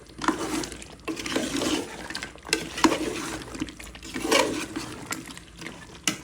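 New potatoes dropped into hot oil for a country chicken curry and stirred, giving bursts of sizzling and scraping that come in uneven waves, close by with no talking.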